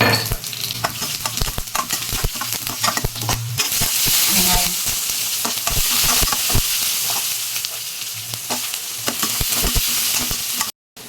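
Mustard seeds, dried chili and garlic fry in hot oil in a pan, sizzling loudly and continuously up close, with stirring scrapes and clatters throughout.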